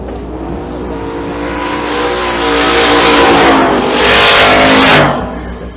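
Drag racing cars launch down the strip at Twin Cities Raceway in Monroe, Louisiana, during Rocky Mountain Race Week, with loud engines revving and roaring as they accelerate away, rising in two swells and fading toward the end.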